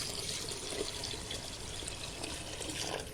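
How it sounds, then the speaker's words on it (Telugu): Water poured onto soaked rice in a pressure cooker for methi pulao, a steady close splashing trickle lasting the whole three seconds with no voices. "గిలాస్నార బియ్యానికి 3 గ్లాస్ నీళ్ళు వేసాము."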